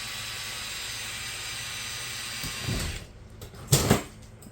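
A smaller bit drills into a truck muffler in a garage, giving a steady whining grind that runs for about three seconds, then stops, followed by a couple of brief clunks and bumps.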